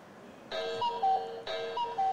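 An alternative melody plays from a Toucan wireless doorbell chime on a CES 2020 show floor: a short electronic tune repeated twice, each phrase about a second long, over low crowd noise.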